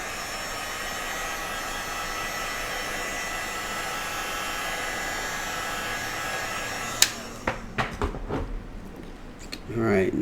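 A hair dryer blows steadily to dry paint on a stencil coaster, a loud continuous whoosh that cuts off abruptly, followed by a few sharp clicks and handling knocks.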